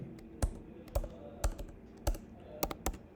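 Keys on a computer keyboard are tapped in short, quiet bursts, a handful of crisp clicks spaced unevenly over a few seconds, heard close and alone.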